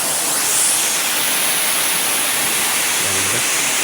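A waterfall roars with a steady, dense rush of falling water that stays loud and unbroken throughout.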